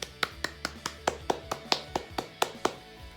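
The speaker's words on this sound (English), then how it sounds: "Let's give them a big round of applause." Schoolchildren clapping for award winners at a school celebration assembly: a dozen or so loud, evenly spaced claps in a steady rhythm, with faint voices underneath.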